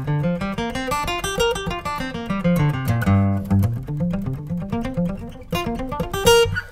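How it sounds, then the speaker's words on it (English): A guitar runs a G pentatonic scale up and back down in quick even picked notes, played close and alone, with a few extra notes flourished at the end. "is a G pentatonic scale"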